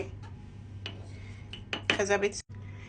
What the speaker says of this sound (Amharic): ከኒስካፌ እንደዚህ አርጋችሁ 1 ማንኪያ ታረጋላችሁ